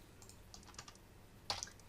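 Faint keystrokes from typing code on a computer keyboard, a few soft clicks followed by one sharper tap near the end, recorded at low level under a steady background hiss.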